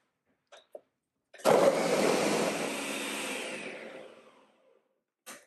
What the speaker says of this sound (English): be patient, give time for the blender to grind it.